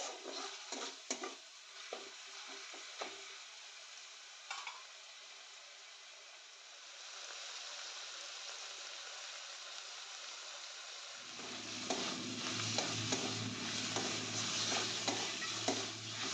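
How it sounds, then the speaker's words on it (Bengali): Small chicken pieces with turmeric and salt fry in a pan, starting with scattered stirring taps and scrapes, then a quieter stretch, before a louder, steady sizzle takes over with occasional stirring clinks. "এবার চিকেনটাকে আরও একটুখানি ভেজে নেব।"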